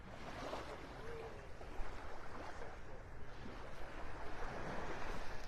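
Ocean waves wash onto a beach in North Naples, Florida as the tide comes in, a continuous broadband surf rush with soft swells of breaking water and some wind buffeting the microphone, no voices.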